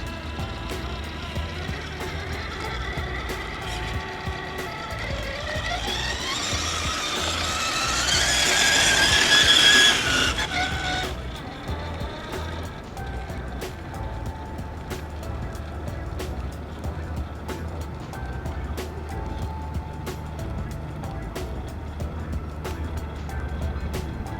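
Traxxas TRX-6 RC truck fitted with an upgraded motor, crawling slowly in first gear: a soft, continuous motor whine and drivetrain hum that swells to a louder, higher surge for a few seconds midway, then settles back.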